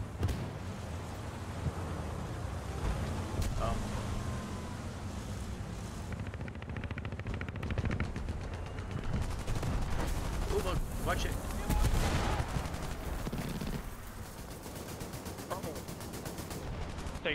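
Aircraft strafing gunfire in a tank-and-plane video game battle: loud, dense bursts of machine-gun and cannon fire over a constant low rumble, with sharper cracks scattered throughout.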